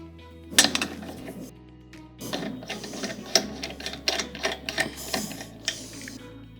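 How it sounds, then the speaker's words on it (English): Metallic ratcheting and clanking from a socket wrench spinning lug nuts off a lifted Chevy Camaro wheel, irregular bursts of clicks and clatter, close and fairly loud with no talking. "we can take our socket and use it to remove the rest of the lug nuts"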